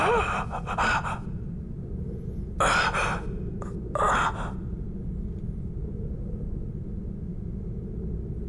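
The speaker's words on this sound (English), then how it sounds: "They really like making breathing noises into the mic." Heavy breathing noises from Final Fantasy XII characters come in a few loud, breathy gasps and exhalations in the first half, over a constant low rumbling background that carries on alone afterward.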